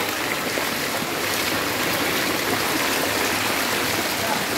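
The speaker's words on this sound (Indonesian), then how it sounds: "Tuh, airnya kencang banget dari sini" Strong floodwater rushing past houses at night in Padang during heavy rain, a loud, steady, broadband roar of torrential flow that stays close and continuous throughout.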